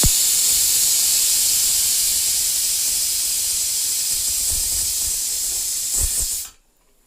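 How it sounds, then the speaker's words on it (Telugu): A pressure cooker on a stove lets off a loud, sustained steam hiss that runs for several seconds and then cuts off abruptly. "విజిల్ అయితే వచ్చేసిందండి"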